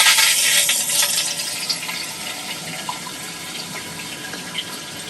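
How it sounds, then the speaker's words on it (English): A hotel room toilet at a Walt Disney World resort flushes with a violent, loud rushing surge that starts strong and tapers into steady refilling water over several seconds. "The toilet flush is very violent and very loud"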